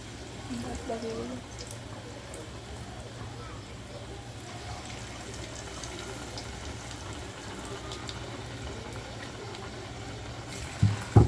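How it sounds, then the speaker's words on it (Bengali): Chicken pieces frying in hot oil make a steady, soft bubbling sizzle close by, ending with a couple of brief clatters. "এটা আমি আবার তেলে দেবো।"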